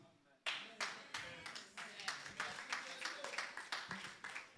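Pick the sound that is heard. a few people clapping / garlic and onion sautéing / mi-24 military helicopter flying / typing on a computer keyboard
a few people clapping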